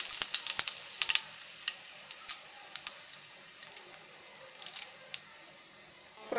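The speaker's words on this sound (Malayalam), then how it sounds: "നമുക്ക് ഒരു പാനിൽ കുറച്ച് എണ്ണ ഒഴിച്ച് കടുക്, ഒരു പച്ചമുളക് ചെറുതായിട്ട് അരിഞ്ഞത്," Mustard seeds and chopped green chilli fry in oil in a pan, crackling with quick, irregular sharp pops over a faint sizzle.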